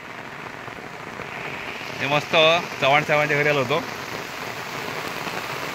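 Steady rain patters on surfaces outdoors near rice fields, a constant soft hiss that continues under a man's brief speech midway.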